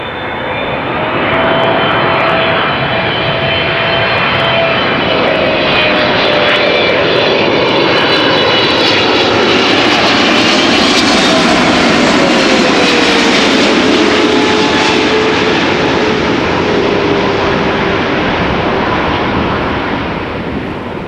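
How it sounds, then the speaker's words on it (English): Emirates SkyCargo Boeing 777 freighter jet arriving at Amsterdam Schiphol, a loud sustained roar of jet engines with a whining tone that swells and slowly shifts as the plane passes close by, filling the whole stretch without speech. "Emirates Sky Cargo, 777 freighter, arriving from Dubai."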